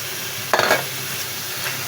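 Dried kechki fish sautés with garlic in a pan, sizzling steadily, and a short burst of stirring scrapes through the frying about halfway in.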